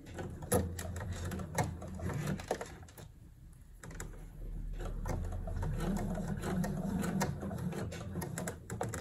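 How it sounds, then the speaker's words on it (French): A sewing machine stitches a small rectangle on a blouse, running in short close bursts with brief pauses where the fabric is turned, then settling into a steadier hum. "on va piquer en faisant un petit rectangle"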